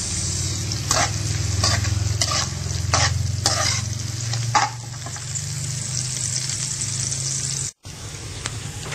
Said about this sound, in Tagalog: So medyo brown yung bawang natin, add na natin yung sibuyas.